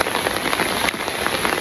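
Steady rain patters densely on surfaces, an even close hiss with no breaks or voices.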